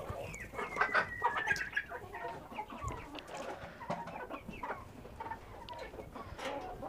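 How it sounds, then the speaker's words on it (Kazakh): Chickens cluck and chatter near and far while a Dakan Kurt hen broods on eggs, with steady mid-level clucking, a few sharper calls and brief squawks, and no talking. "Менің дакан күрт тауығым қазір жатыр. Жұмыртқа басып жатыр."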